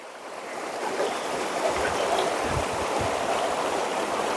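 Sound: rinsing Lasco canned mackerel in water

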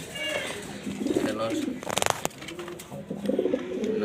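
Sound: pigeons cooing

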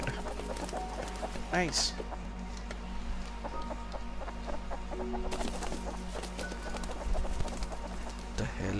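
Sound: chicken clucking in the video game Rust

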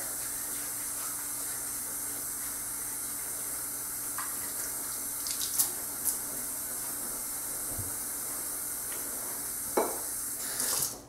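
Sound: water running from tap

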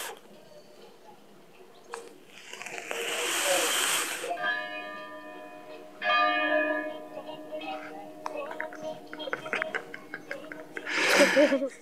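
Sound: church bell ringing

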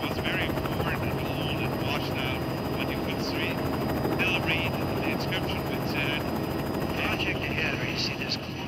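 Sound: helicopter flying

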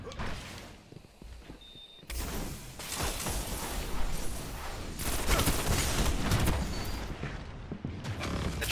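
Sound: gunfire in the video game Destiny (Trials)

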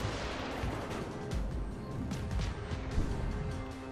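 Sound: battleship artillery fire in a naval video game

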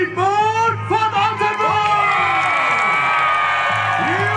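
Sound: crowd cheering for the tournament winner

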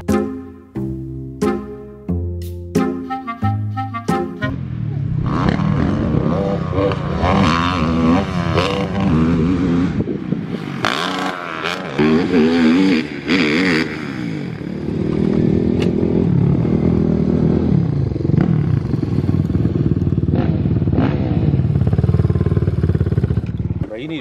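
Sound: pit bike engine revving

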